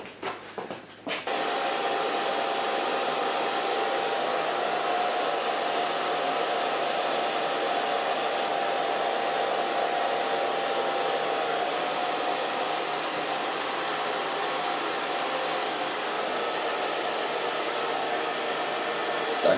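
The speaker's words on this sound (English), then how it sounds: "So now our hair is ready to dry." A hair dryer switches on after a brief pause and blows a loud, steady, close-up roar for the whole stretch while long curly hair is dried. No voices are heard.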